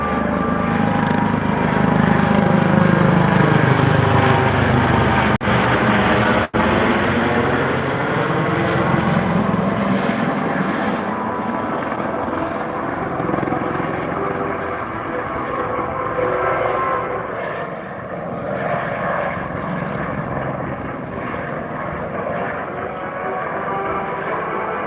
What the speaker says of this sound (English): get ready for a great photo opportunity of the MH-65 Dolphin in a high-speed race